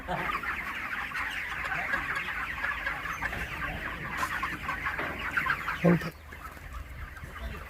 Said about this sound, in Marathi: श्रद्धा या हळूच पोल्ट्रीतनं बाहेर ये त्या कोंबडीला